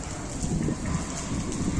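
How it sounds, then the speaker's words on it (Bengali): Heavy rain pours down outside a seaside hotel, a dense, loud roar of drops pattering on surfaces with no talk over it. "এই দেখো বৃষ্টি হচ্ছে, কি প্রচন্ড বৃষ্টি হচ্ছে"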